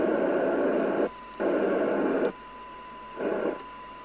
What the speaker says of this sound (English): that's more of the FM hiss that I'm expecting.